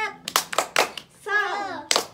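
Children perform the tepuk semangat rhythmic clap in a class 5 primary classroom, with a few sharp group claps interleaved with short shouted chant syllables and one drawn-out voice, close and lively.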